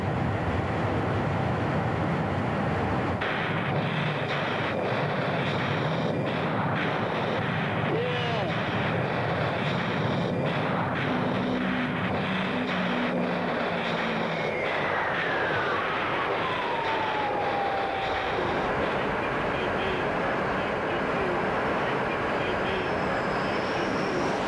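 An A-6 Intruder jet streaks toward its target in a steady, dense roar of engine noise, with a faint whine that sweeps downward midway through and a narrator's voice over it.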